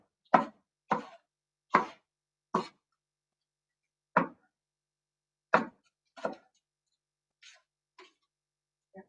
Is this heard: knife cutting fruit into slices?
yes